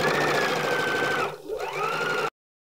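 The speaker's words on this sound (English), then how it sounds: "Now I'm ready to sew the next set of edges together. So I have a straight stitch set" A sewing machine runs a straight stitch along sweater edges for an upcycled beanie, a loud steady mechanical whir that briefly slows and dips near the end, then resumes before stopping abruptly.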